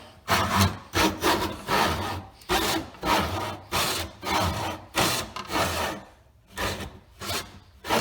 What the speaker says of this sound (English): we're just going to cut a nub off using our miter box